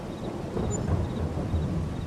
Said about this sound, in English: Oh, nice thunder sounds, though. That sounds glorious.